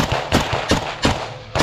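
Gunfire in close combat: five sharp, loud shots in a quick irregular burst, each a hard crack with a short tail, and no voices between them.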